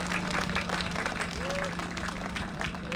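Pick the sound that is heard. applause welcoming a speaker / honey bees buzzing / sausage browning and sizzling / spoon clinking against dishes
applause welcoming a speaker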